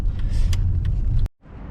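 A taxi sets off and drives, its engine and road noise forming a steady low rumble heard from inside the car, with a brief break before the drone resumes more quietly.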